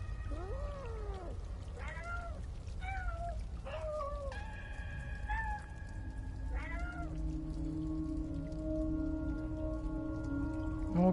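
A cat meows repeatedly in Stray, several plaintive mews spaced a second or two apart over steady rain-like background noise, fairly close, followed by a longer tonal hum.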